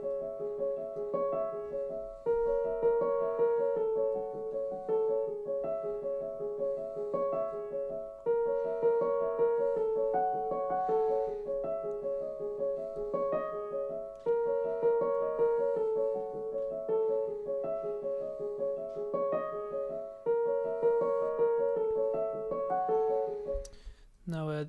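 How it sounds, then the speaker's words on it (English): Piano chords from a hip-hop music sample loop in a steady repeating progression, loud and close, with sustained harmonic notes changing every few seconds and no talking over them. "my favorite part of the sample, which is the piano, and it sounds like this"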